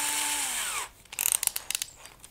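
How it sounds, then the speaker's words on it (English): A hand drill twisting wire into twisted pair runs with a steady whine for under a second, then stops and gives way to a quick series of light clicks and rattles. "I will use a hook and a hand drill."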